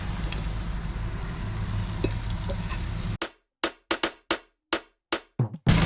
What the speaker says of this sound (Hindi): ये थोड़ा सा गर्म हो गया, इसमें हम लहसुन शामिल करते हैं।